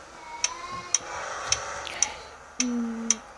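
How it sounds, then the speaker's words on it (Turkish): A car turn signal ticks in a driving video game, giving six evenly spaced, crisp clicks about half a second apart over a low engine drone, with a brief higher tone near the end. "sola sinyal verdik"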